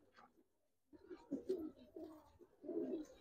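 Giribaz pigeon cooing in a few soft, low murmuring bursts, quiet and close, with brief pauses between the coos.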